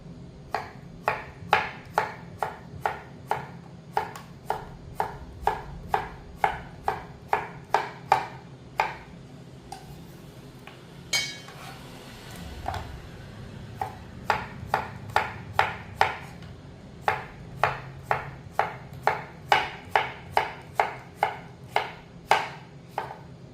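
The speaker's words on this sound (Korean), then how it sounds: "중간에 한번 이렇게 썰어주세요" A knife chops cucumber on a cutting board in steady, evenly spaced crisp strikes, close and clear, with a short pause midway before the rhythmic chopping resumes.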